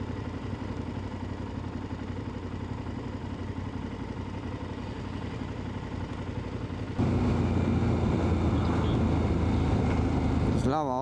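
Motorcycles ride along on a tour of mountain villages, giving a steady engine drone throughout. The engine noise jumps louder partway through as the revs rise, and a brief rising whine comes at the end.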